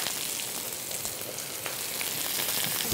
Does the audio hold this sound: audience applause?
no